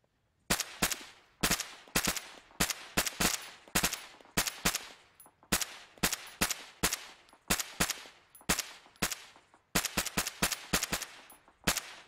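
Rifle fire during a field training exercise, sharp close shots in rapid repeated bursts of three to six rounds with brief pauses between volleys, loud and continuous throughout.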